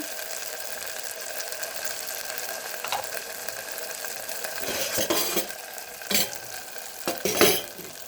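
Ginger paste fries in a pan for tomato rasam while a spoon stirs it, with a continuous sizzle broken by three louder scraping stir strokes near the end.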